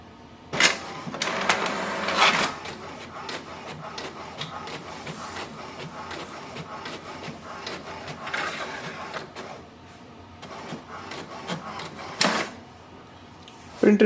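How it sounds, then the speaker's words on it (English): An HP DeskJet 2942 inkjet printer whirs and clatters through several mechanical passes printing a page, with rattling bursts, a quieter stretch in between, and a voice speaking now and then. "So let's print it to see if it's working or not."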